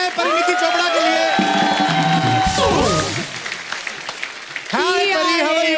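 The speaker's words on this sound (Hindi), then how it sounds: "एक बार जोरदार तालियां हो जाए परिणीति चोपड़ा के लिए" A television studio audience claps and cheers for actress Parineeti Chopra on a comedy talk show, bursts of applause mixed with music and people speaking over it.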